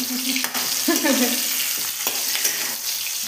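Potatoes fry in a pan with a steady close sizzle, broken by scraping stirs and a brief splash of added liquid.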